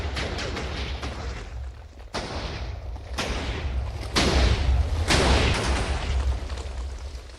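A Minecraft nuclear bomb goes off with the force of 10,000 TNT blocks, heard as a rolling chain of loud, booming blasts with sharp onsets, swelling stronger in the second half over a continuous low rumble.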